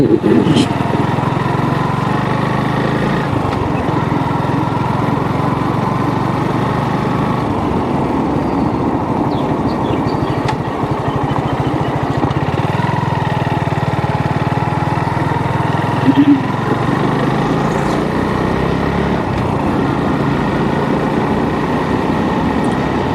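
Motor vehicle engine rumbling steadily while driving slowly on a rough, damaged road in Rupganj, with a continuous drone and occasional bumps, and a person talking over it.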